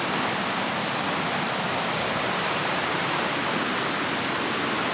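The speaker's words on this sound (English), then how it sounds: "Oh, a waterfall." A waterfall roars in a steady, loud, broadband rush with no pauses, alone and unbroken for the whole stretch.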